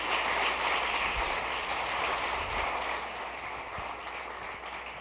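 A church congregation claps in praise of the Lord, a dense, even patter of many hands filling the room, a little louder at first and easing off slightly toward the end, with no talking.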